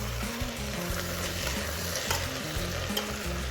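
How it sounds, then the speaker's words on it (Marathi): Washed rice with peas and spices is stirred in a sizzling pan for Maharashtrian matar rice, a close spoon scraping rhythmically over continuous frying crackle. "हे चांगलं हलवून घ्यायचं आहे."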